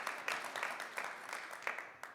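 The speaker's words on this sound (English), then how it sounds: "to give them a big round of applause beforehand" Audience applause for the panelists at a London VC summit panel on proptech: fairly quiet, steady clapping from a crowd, with a few sharper claps standing out, no voices over it.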